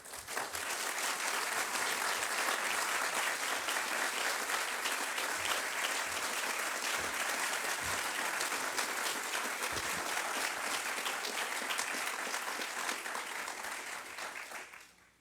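Sustained audience applause at a university lecture hall welcoming General Scowcroft to the podium, a dense, steady wash of many hands clapping that holds evenly for about fourteen seconds before fading out.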